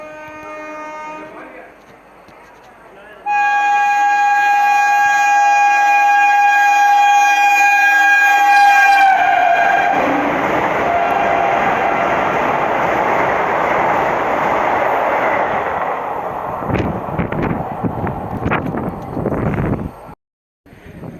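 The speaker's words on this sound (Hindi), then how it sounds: "अब देखते हैं और कौन सी ट्रेन आ रही है।" A train arriving at a station sounds a long, loud, sustained horn, then a heavy rolling rumble of wheels passes close by for several seconds before trailing off.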